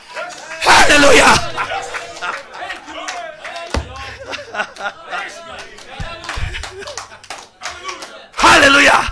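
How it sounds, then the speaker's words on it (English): A church congregation bursts into loud clapping and cheering, then a preacher speaks over quieter crowd murmurs before another strong round of clapping erupts at the end. "He saw you clapping right now."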